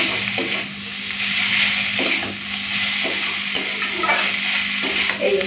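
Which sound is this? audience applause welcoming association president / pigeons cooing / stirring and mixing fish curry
stirring and mixing fish curry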